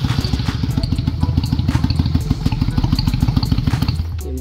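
A Honda Steed 400 motorcycle engine runs during routine maintenance, a loud, close, even thumping idle with rapid regular pulses and light mechanical clatter, heard alone.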